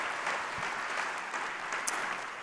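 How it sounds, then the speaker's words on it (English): A crowd at the HLTV Awards, a Counter-Strike esports ceremony, breaks into sustained applause, a dense wash of clapping that holds steady and fairly close for the whole stretch, with no speech on top. "Can you give a round of applause to Hltv and Relog for throwing another impeccable event?"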